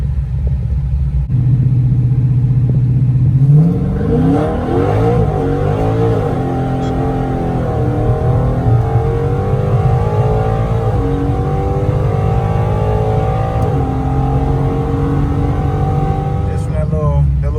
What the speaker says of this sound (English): So let's see if I can do a little launch.